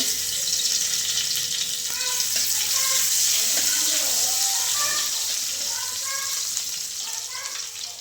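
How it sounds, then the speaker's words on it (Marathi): Steady loud sizzling of cumin and garlic tempering in hot oil, with a soft voice speaking in the background throughout. "मस्त बसते फोडणी तर"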